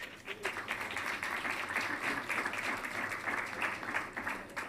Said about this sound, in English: if you all don't mind giving a brief applause for our new Finance Director, Janine Reed